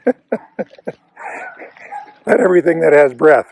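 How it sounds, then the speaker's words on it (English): Dogs somewhere in a residential neighborhood let out a few short, sharp barks in quick succession, then a person starts talking over the quiet outdoor background. "You can hear the dogs in the background"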